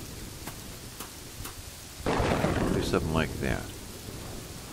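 A thunderstorm with lightning in the video game Kingdoms and Castles rumbles under steady rain, with a loud thunder burst midway. Someone speaks briefly over it.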